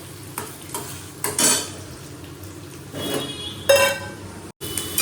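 Steady sizzling of potatoes frying in a pan, broken by a few louder scraping and clinking bursts as a utensil stirs against the metal.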